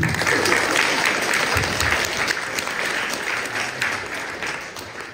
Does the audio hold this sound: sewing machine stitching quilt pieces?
no